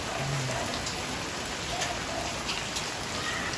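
Steady, dense night rain hiss pours down without pause, a constant wash of drops on surfaces, loud and close throughout.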